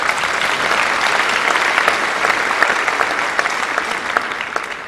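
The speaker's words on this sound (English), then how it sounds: "So I'd like a round of applause for them." An audience applauds the backstage crew at the Neenah Joint School District Gold Tassel 2013 ceremony, sustained dense clapping from a large indoor crowd that fills the space steadily for about five seconds, no talking over it.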